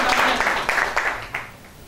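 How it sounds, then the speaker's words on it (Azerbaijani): Clapping from an audience at a commemorative gathering in Azerbaijan, several short bursts of moderate loudness that fade toward the end, with faint voices mixed in. "alqışlayaq"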